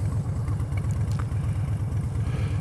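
Harley-Davidson Street Bob motorcycle riding on a road, its engine a steady, loud low throb with a rapid pulsing beat, continuous throughout with no talking.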